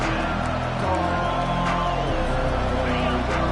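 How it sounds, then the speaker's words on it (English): Stadium crowd roaring at a Texas A&M versus LSU college football game, a dense, steady wall of massed voices and cheers filling the whole clip at high volume. "The roar of the crowd trying to fuel this defense to keep them pinned in their own end."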